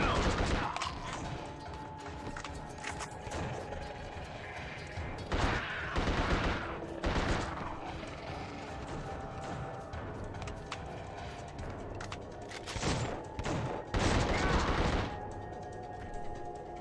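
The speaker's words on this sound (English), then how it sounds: "I guess I could Tommy gun down there." Tommy gun fire in the horror shooter The Suffering, with several loud bursts of automatic fire amid sustained in-game gunfire, thuds and mechanical noise.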